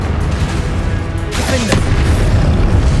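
A Confringo spell detonates in Hogwarts Legacy, a loud booming blast with a fiery crackling tail over dense, continuous combat noise.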